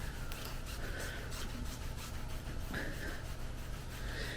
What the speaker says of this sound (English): So I'll spend about 20-30 seconds rubbing on it,